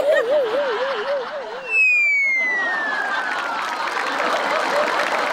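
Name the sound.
audience applause on a Marathi comedy show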